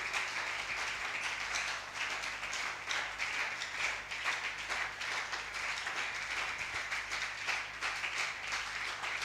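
A church congregation applauding together, a dense, steady wash of many hands clapping that holds evenly from start to finish without a break.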